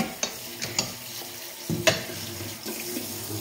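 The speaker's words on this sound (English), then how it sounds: "I'm going to give this a quick rinse off" Pickled chillis rinsed in a colander under a running kitchen tap, a steady close wash of water with a few soft knocks and splashes as the colander is moved.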